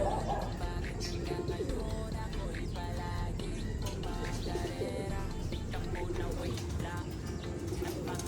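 Pigeons softly cooing in low, repeated calls, faint and somewhat distant, under a busy background with occasional chirps and rustling.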